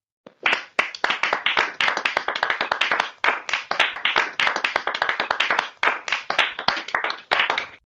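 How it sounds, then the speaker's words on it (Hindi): Close, rapid clapping from a small group of children, a dense stream of sharp hand claps with brief pauses, no voices. "बच्चे तालियां बजाते हैं।"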